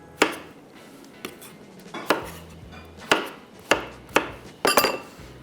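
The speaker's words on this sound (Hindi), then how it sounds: "ये भी काट लेते हैं और इसको भी थोड़ा सा ज़रा थिक पीसेस में" A knife chops zucchini into thick pieces on a cutting board, about eight sharp, separate knocks with uneven gaps between them, close and fairly loud, with no talking.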